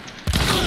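A single loud shotgun blast in the first-person shooter Hunt Showdown. It lands abruptly after a near-silent moment and rings out with a broad, lingering tail.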